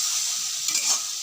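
Cumin seeds with turmeric frying in a pan while being stirred, a steady hissing sizzle close by with a faint scrape of stirring midway.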